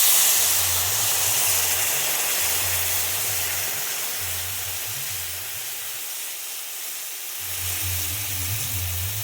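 A pan of Bengali mustard-based parshe fish curry sizzles and hisses steadily after water is poured in, a broad steamy bubbling hiss running throughout with a low pulsing burble underneath, no talking.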